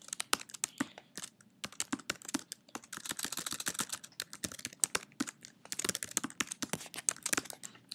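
Quick, uneven clicks of a computer keyboard typing code fill the clip, bursts of rapid typing broken by brief pauses, close and fairly quiet.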